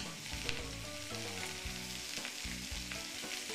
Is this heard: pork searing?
yes